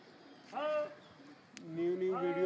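Soft, throaty cooing from pigeons kept in a rooftop loft, two rounds of warbling coos with a short pause between them and a faint tap in the background, with no talking.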